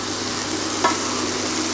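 Lamb pieces for stew sizzle steadily in a pan over medium-high heat, a dense continuous frying hiss close up with a brief stir or clink midway and no talking.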